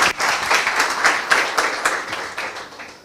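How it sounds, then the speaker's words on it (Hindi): A church congregation claps together during a Christian service, producing dense, steady applause with a few sharper bursts. It lasts about three seconds with no talking. "मैं चाहता हूं सबसे पहले इस वचन की ताली बजाइए"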